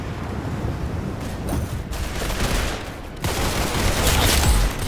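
Dense, continuous video game gunfire from Roblox Arsenal, a rapid crackling barrage of overlapping shots that never lets up and grows louder in the last couple of seconds.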